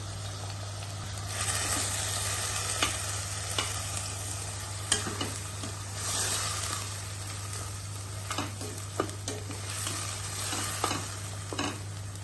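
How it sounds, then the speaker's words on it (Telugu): Onion paste cooks in oil in a pan with a steady close sizzle, broken by occasional stirring scrapes and clicks of a spoon over a constant low hum, with no one speaking. "ఉల్లిపాయ పేస్ట్ అంతా ఈ రకంగా మగ్గాలండి"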